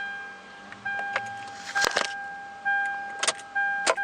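Ignition key turned to on in a 2003 Toyota 4Runner V8, producing a few soft clicks and key jingles over steady electronic chime tones inside the car, fairly close and without talk.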